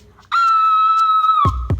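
A single sustained scream, loud and close, holding one high, steady pitch for about a second before breaking off into a couple of abrupt bumps.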